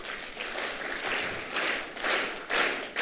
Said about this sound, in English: what I want you to do is to clap synchronously all together